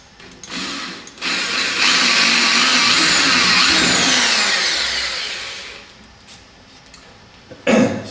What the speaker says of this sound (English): Then we need to change your drill bit for a slightly larger drill bit to drill through that centre mark